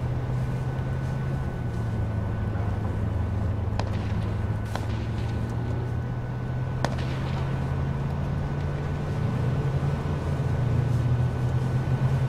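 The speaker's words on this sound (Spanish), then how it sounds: "escucho los pinches carros" Engines of cars in the H1Z1 video game drone steadily nearby. The low, continuous hum shifts slightly in pitch, and a few faint clicks sit on top, with no talking.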